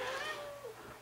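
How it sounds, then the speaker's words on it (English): A pet cat named Gandhi gives a single drawn-out meow, fairly faint and close, rising then sliding down over about a second. "That's my cat, Gandhi."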